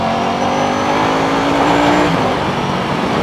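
A 2025 Ducati Panigale V4S with an Akrapovic race exhaust accelerating in first gear, a loud, dense, rough engine roar rising steadily in pitch, then easing briefly near the end.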